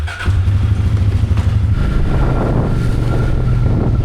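A quad bike engine drones loud and steady while driving through a flooded farm, its rumble mixed with wind buffeting the microphone throughout.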